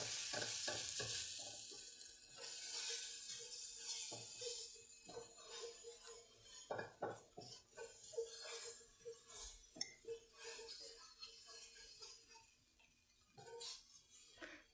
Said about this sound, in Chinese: 锅中油烧热，倒入鸡蛋炒熟。